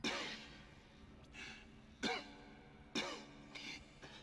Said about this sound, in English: Just gonna cough?